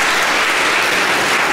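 An audience applauds after a student piano recital, a dense, even wash of many hands clapping, loud and sustained throughout.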